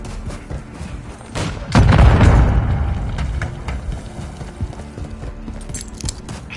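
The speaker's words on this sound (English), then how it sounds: "Throwing a stun grenade." A stun grenade goes off in Call of Duty Modern Warfare 3 with one loud, heavy bang and a fading rumble, set among scattered footsteps and small in-game clatters.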